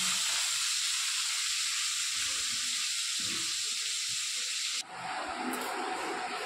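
Fish frying in a kadai gives a loud, steady broadband sizzle and hiss throughout. Near the end the sound shifts abruptly in tone, as if the pan is moved, and no one speaks.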